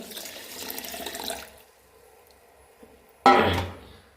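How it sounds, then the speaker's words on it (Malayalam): Water is poured into soaked ragi in a grinder jar for dosa batter. A short, close splash of pouring comes first, then a pause, then a louder burst of water near the end, with no talking. "ഇനി കുറച്ച് വെള്ളം കൂടി ഒഴിച്ചെടുക്കുക"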